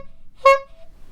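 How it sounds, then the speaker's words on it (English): A Jeep fitted with a Mazda 13B rotary engine gives one short, sharp honk of its horn, close and fairly loud against a quiet background. "Give it a honk."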